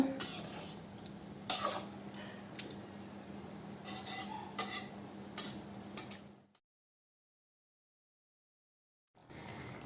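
Chicken gravy stirred in a pot, with scraping spoon strokes and bright clinks against the metal over a low steady simmer, stopping after about six seconds; a pause of silence follows before the bubbling returns faintly.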